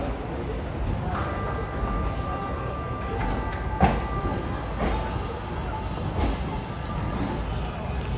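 A crowded Sealdah–Bangaon local train runs at office time with a steady, loud rolling rumble, rhythmic wheel clacks and a thin metallic squeal.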